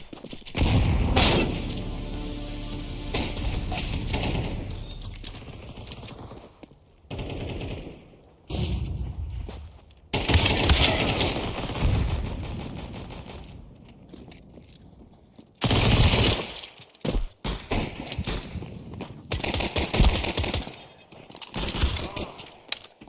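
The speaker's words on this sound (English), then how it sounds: "Grenade out." Gunfire and grenade blasts in Counter-Strike 2: loud bursts of automatic fire and sharp explosive booms come in clusters, separated by short quiet gaps, close and dominant.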